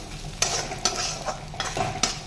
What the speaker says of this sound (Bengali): এরকম করে এটা অনেকক্ষণ ধরে এটা ভাজতে হবে, গ্যাসটা সিম করে।